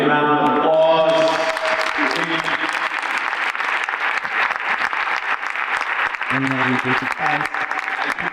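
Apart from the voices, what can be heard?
audience applause for award winners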